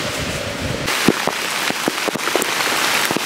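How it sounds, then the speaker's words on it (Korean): Heavy rain pours steadily on a mountain trail during a multi-day ridge traverse, a dense hiss broken by sharp, close drops and gusty patter striking gear and surfaces nearby. "비가 너무 많이 내리고 있습니다."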